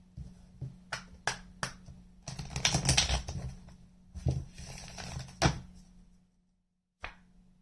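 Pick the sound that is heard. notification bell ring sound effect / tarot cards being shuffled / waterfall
tarot cards being shuffled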